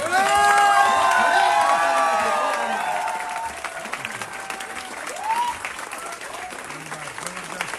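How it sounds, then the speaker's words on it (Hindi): Audience applause at a company gathering, loud clapping and cheering up front that gradually thins out, with voices shouting and talking over it. "तालियां, जोरदार तालियां होनी चाहिए"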